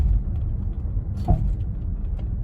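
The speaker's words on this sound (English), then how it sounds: "I think you can ever so slightly distinguish a very specific thump, lower frequency thump, apart from the background noise" A single brief thump from the front suspension of a 2012 Range Rover Sport SDV6 with worn front upper control arm bushings, heard when the brakes are tapped at steady speed, barely rising above steady road and cabin rumble.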